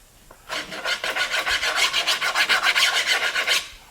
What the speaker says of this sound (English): We start off by filing and sanding